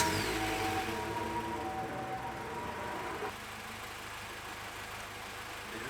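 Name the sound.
Honda DC2 engine idling with timing off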